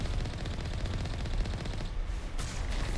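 Continuous rapid automatic gunfire in Mass Effect Legendary Edition, loud and close, hammering steadily for the whole stretch with no talk over it.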